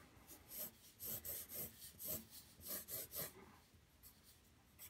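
A pencil sketches hair strokes on paper, a faint series of quick scratchy rubs in an uneven rhythm, close and quiet with no talking.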